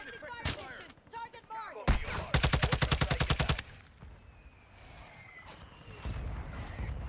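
Rapid burst of automatic gunfire during a mortar strike in Call of Duty: Modern Warfare II, loud and close, a steady rattling string of shots lasting over a second, then fading into a quieter battlefield rumble and ambient noise.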